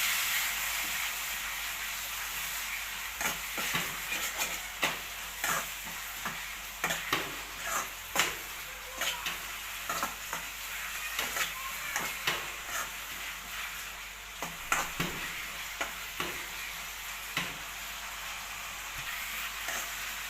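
Paneer curry masala is stirred and fried in a pan, a steady sizzle broken by repeated scraping strokes of the spoon against the pan every second or so, close up and without talk.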